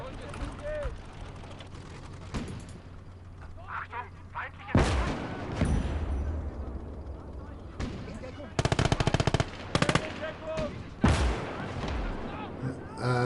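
Artillery booms and bursts of rapid gunfire sound through a WWII Eastern Front battle in the video game Call to Arms: Gates of Hell. Loud blasts and crackling automatic fire overlap in a dense, continuous mix over a steady low rumble.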